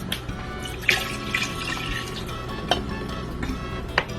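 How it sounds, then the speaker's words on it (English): Water trickles and splashes into a cooking pot while Guyanese metemgee is being made, with a few louder drips and clinks over a continuous running-water sound and no talking. "I'm just going to add a little bit more water, about 1 cup more"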